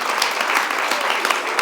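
A live audience at a Maine Voices Live event with playwright John Cariani claps in dense, steady applause that fills the room.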